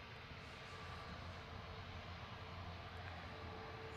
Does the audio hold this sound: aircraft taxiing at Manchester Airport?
yes